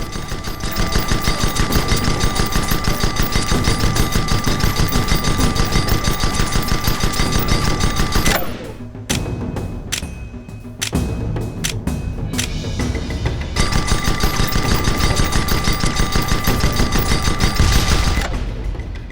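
Sustained rapid ship-gun fire in the game Guns of Icarus Online rattles loudly and continuously, breaks off into a few scattered shots and a short lull, then resumes in a long dense burst.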